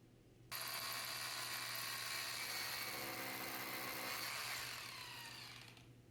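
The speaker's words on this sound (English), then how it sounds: "I'm making the initial pilot hole with the 5/32 bit" A power drill with a 5/32 bit boring a pilot hole for a floating shelf, a steady loud whine starting abruptly, holding for about five seconds, then winding down near the end, with no talking.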